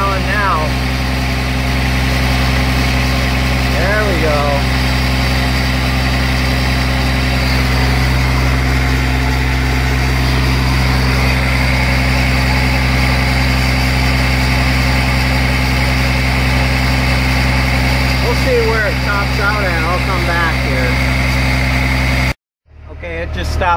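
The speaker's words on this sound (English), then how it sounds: "I turned the idle back down." An LMTV military truck engine idling nearby after its idle has been turned down, a loud steady low rumble with vibration that runs throughout, with voices talking over it, cutting off abruptly near the end.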